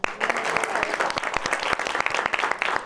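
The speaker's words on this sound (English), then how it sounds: "Let's clap for her." Audience applause at a live community talk show, brisk clapping from a nearby crowd with distinct sharp hand claps over a continuous patter, steady throughout.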